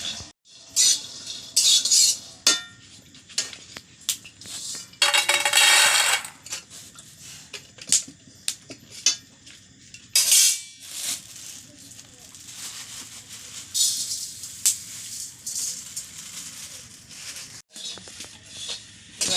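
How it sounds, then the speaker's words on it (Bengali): Flattened rice (chira) being dry-fried in a pan, with a spatula scraping and clattering against the metal in irregular bursts while a person talks intermittently. "আমি চিরাগুলো ভাজছি চিরা"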